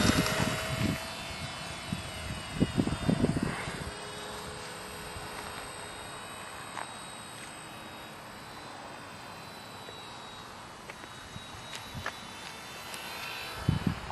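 A radio-controlled ParkZone Ultra Micro T-28 model airplane buzzes steadily overhead at moderate distance, its whining motor holding a fairly even pitch with a few louder bumps near the start.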